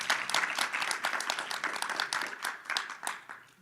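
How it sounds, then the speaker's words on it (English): Audience applause for panelists at a high-level ministerial conference on antimicrobial resistance, a dense run of hand clapping from a sizeable crowd that stays steady and slowly thins toward the end. "A big applause to all of them"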